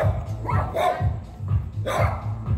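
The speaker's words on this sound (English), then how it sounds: "A lot of dogs." Several dogs bark repeatedly at night outside a resort in Vang Vieng, Laos, in rough bursts of barks and yips at moderate distance over a low background hum.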